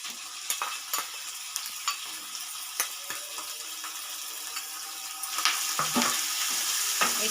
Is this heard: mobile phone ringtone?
no